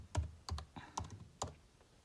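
Someone types a pod install command on a computer keyboard. About five soft, close keystrokes tap out in an uneven rhythm in a quiet room.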